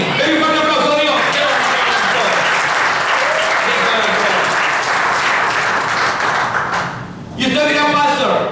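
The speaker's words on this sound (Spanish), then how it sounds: "Denle un fuerte aplauso a Dios." Church congregation applauding loudly and steadily for several seconds, a dense continuous clapping that dips briefly near the end, with voices and the pastor's speech mixed in at the start and close.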